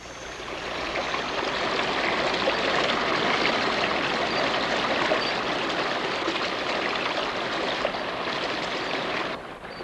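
A stream in a rainforest frog habitat flows in a continuous rushing wash at moderate volume. The sound is steady and unbroken, then drops away sharply at the very end.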